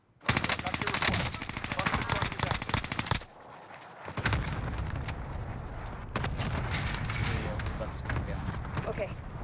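Rapid automatic gunfire in the video game Warzone on Rebirth Island, loud and close with dense bursts of shots, a brief lull, then continued firing and combat noise mixed with a player's voice.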